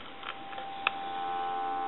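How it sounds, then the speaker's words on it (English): A steady electronic dial tone from a vintage wood duck telephone hums continuously over a faint line hiss, with a brief click partway through. "Give you some dial tone."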